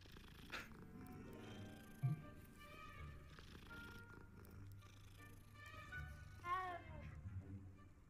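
A cat in the video game Hogwarts Legacy meows and purrs softly over quiet background game ambience, with a brief rising meow near the end.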